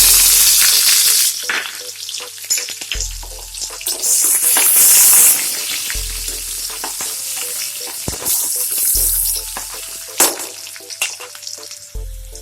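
Whole garam masala and onions fry in a pan with a loud, crackling sizzle, broken up by repeated scraping and stirring clatter and short bursts of louder spitting.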